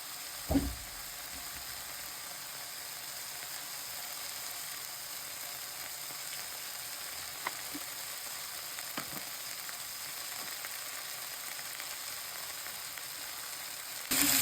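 Chicken frying in a pan with cumin powder, a Pakistani-style dish: a steady, even sizzle that runs almost unbroken throughout, with a few faint stirring clinks and a brief knock near the start and the end, no voices.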